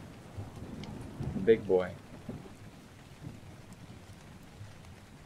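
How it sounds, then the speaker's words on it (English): Thunder rumbles through the ARK video game over a bed of rain, a low swelling roll peaking briefly before settling back into steady rainfall, while a voice talks over it. "That was thunder."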